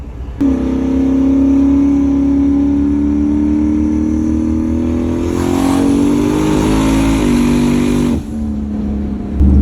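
A car with a 3-inch exhaust pulls away hard. It gives a loud, steady, deep engine drone that climbs through the revs, shifts pitch near the end, then drops off.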